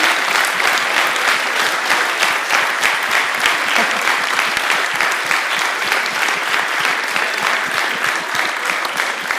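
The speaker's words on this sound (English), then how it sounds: "Can we have a round of applause for that?" A student audience at Leiden University gives sustained, vigorous applause, many hands clapping densely and evenly throughout.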